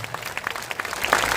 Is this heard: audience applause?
yes